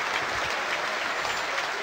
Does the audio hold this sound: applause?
yes